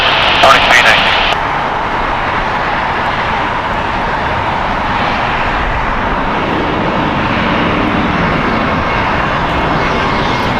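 An 18-year-old United Airlines Airbus A319 roars steadily at LAX airport, a loud, broad jet-engine rumble that holds throughout after a brief burst of radio chatter at the start.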